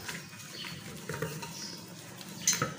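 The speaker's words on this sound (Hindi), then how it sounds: "इसको पिंदे के अंदर हाथ थोड़ा सा रगड़ना होता ताकि इसकी जो गांठे होती है वो ख़त्म हो जाए" A hand rubs gram flour batter around the bottom of a pot to break up lumps, making soft scraping and clinking sounds with a few brief louder knocks near the end.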